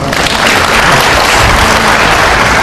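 Loud, dense applause from a lecture audience at a university CEO talk, a close, continuous wash of clapping with no voices over it.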